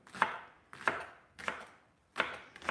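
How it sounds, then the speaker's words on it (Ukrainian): A knife chops green vegetable stems on a board in five distinct, evenly spaced strokes, each a crisp close thud, with quiet gaps between and no voices. "то я її також наріжу ось прямо такими шматочками"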